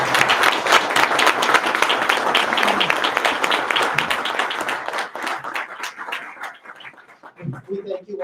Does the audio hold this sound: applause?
yes